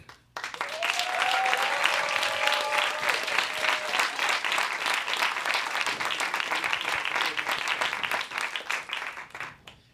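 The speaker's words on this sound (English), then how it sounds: "And keep up the applause for our next storyteller, Eric." Audience applause at a storytelling event fills the room: steady, dense clapping from a crowd that begins abruptly and stays loud and even for about ten seconds, with a few brief tonal squeaks early on.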